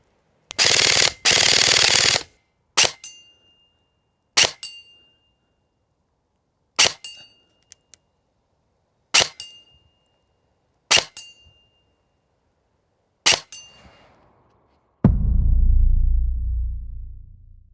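An SSR9 airsoft AEG fitted with a Novritsch Mox suppressor holding a Flare M fires single shots at targets. Each shot gives a sharp crack followed by a ringing metallic target hit, and the shots are well spaced against near-silence. A longer burst of noise opens the clip and a low rumble closes it.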